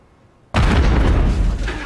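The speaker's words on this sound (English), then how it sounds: "Rocket идет сюда." A rocket explosion in Call of Duty Modern Warfare III, a sudden loud blast bursting out of near silence and rolling on with a heavy rumble.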